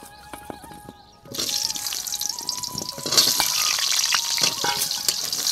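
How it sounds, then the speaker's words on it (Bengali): Pointed gourd pieces go into hot oil that was just used to fry prawns, and a quiet pause gives way to a loud, continuous sizzle and crackle with scattered clinks, alone with no talking. "এবার ওই তেলে পটলগুলো ভেজে নেব।"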